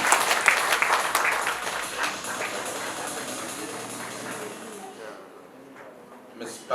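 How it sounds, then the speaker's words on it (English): Audience applause at a foundation day celebration, honoring past presidents of the KMA, loud at first and gradually thinning and fading toward the end. "So let's encourage them with a big round of applause."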